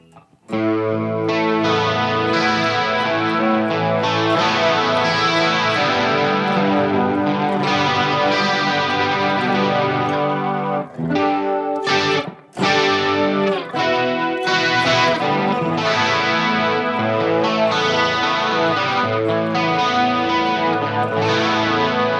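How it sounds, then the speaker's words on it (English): Electric guitar, a Harley Benton SC 550 on the bridge pickup, playing chords with a light crunchy overdrive, loud and continuous, with a brief gap near the middle before strumming resumes. "let's check out some light crunch tones"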